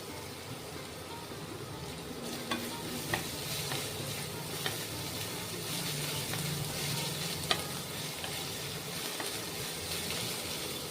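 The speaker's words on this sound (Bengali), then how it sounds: "হালকা লাল লাল ভাজা হবে।" Ginger and chillies frying with onion in a hot pan, a steady close sizzle running throughout with a few sharp clicks and scrapes of stirring at irregular intervals.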